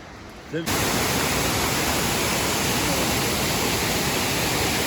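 Yeşilköy waterfall pours in a loud, dense, steady rush of broadband water noise that starts abruptly after a brief quieter moment and continues unbroken.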